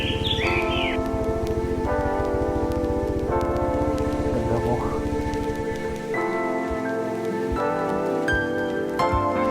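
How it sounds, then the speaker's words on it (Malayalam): Steady rain falls on arrival in Mechuka, a continuous even hiss running under louder tonal music throughout. "നമ്മൾ മെച്ചുക്കലെത്തിയപ്പോൾ ഐശ്വര്യമായിട്ട് നല്ലൊരു മഴയും കൂടെ വരുന്നുണ്ട്"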